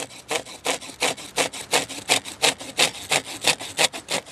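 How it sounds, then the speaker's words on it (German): A Gardena folding pruning saw cutting through wood in a garden saw test, with about a dozen rhythmic back-and-forth rasping strokes, close and even, with no talking. "Dreifach verstellbar ist die Klappsäge von Gardena."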